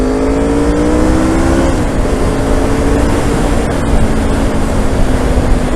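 A motorcycle fitted with race pipes roars loudly and steadily up close, its engine note dipping in pitch partway through and then holding a continuous drone, with no voices.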